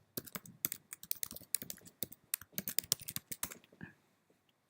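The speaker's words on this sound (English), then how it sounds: "let me enter my password" A password is typed on a computer keyboard in quick, close, irregular bursts of crisp key clicks, then a short pause before one final tap.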